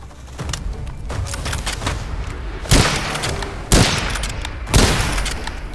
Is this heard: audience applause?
no